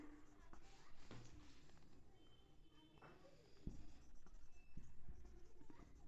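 A teacher writes out an English answer during a Class 6 revision lesson, a steady scratchy rustle of writing that runs continuously at low level, with soft taps and a few faint bumps.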